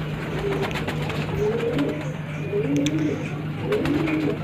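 Pigeons coo softly in repeated low, throaty phrases, several birds overlapping at a moderate distance, over a steady hum and light background clatter.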